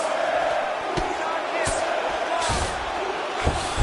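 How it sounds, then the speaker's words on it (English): A fight game crowd roars in appreciation during a grueling grappling exchange on the ground: a steady, dense cheer with a few sharp thuds and bursts rising out of it. "the crowd pops in appreciation as the fighters work their way back"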